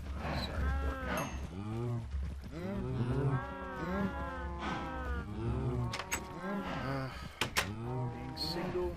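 A cow in a farming video game moos repeatedly, several drawn-out lowing calls spaced across the stretch, fairly close, with livestock noises and some clattering among them.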